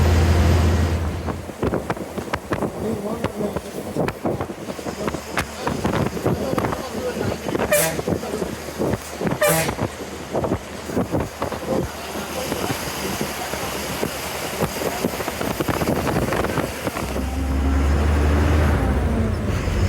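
A long-distance TNSTC bus on the Sengottai to Sathyamangalam route hums along a free road, with steady engine and road noise under ongoing talk and two sharp horn blasts midway.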